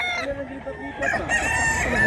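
Roosters crow at close range at a market in Mantalungon, Cebu, a loud drawn-out call followed quickly by another overlapping crow.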